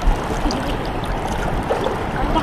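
Sea waves slapping and washing around a small boat, a continuous close churning splash with low rumbling surges and no clear speech.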